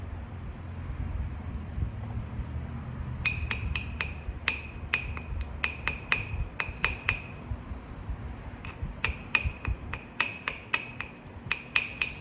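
An antler or hammerstone strikes Tallahatta quartzite during flintknapping, giving a run of crisp, ringing clicks close up in irregular clusters, some quick in succession, some spaced apart, over a quiet room hum.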